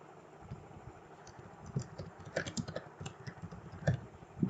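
Keys clatter softly on a computer keyboard as a topic name is typed, a quick, uneven run of light taps that grows a little louder toward the end.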